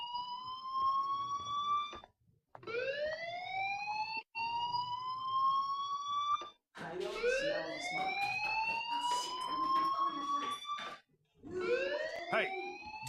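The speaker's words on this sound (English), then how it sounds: "do you hear that fire alarm?" A fire alarm rings inside the video game Life Is Strange, a loud electronic siren of rising, sweeping tones repeated in bursts, cut by short silent gaps, with no talk over it.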